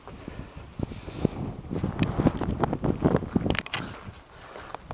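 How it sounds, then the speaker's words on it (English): Wind buffeting a microphone on a hillside trail during the 2012 Lakeland 100 run near Ambleside, a steady rough rumble that swells and fades in gusts, with no other sounds standing out. "It's a bit windy now and again"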